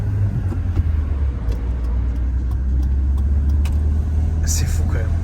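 A petrol car driving, heard from inside as a steady, loud low rumble of engine and road noise that runs throughout, with a couple of small clicks and rattles on top.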